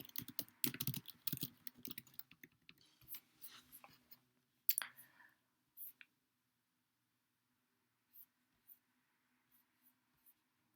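Typing on a computer keyboard, with quick clustered keystrokes close by at first, then slowing to sparse, faint single clicks and taps before fading to near silence.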